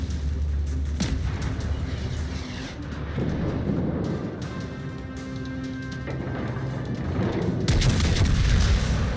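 Naval battle video game combat, with heavy ship guns firing and explosions booming in a dense, continuous barrage, punctuated by sharper blasts near the start and end, with no talking.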